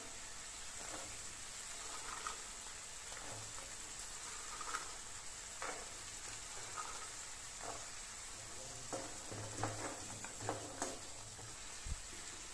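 Green peas frying in a pan of spiced masala over a low gas flame for a pea and mushroom curry, a steady broadband sizzle with scattered soft pops and stirring clicks throughout, no talking.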